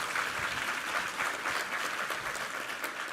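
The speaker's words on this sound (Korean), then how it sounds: "우리 하나님께 감사의 박수 올려드리겠습니다." A church congregation at a Sunday worship service applauds steadily, a soft, even wash of many hands clapping heard from a distance.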